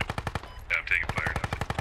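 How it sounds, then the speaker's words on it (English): Rapid machine gun bursts in the Squad military shooter, Al Basrah map, a steady rhythmic string of sharp shots nearly filling the clip, with a brief lull and radio-like tones in the middle. "Yeah, I'm taking fire."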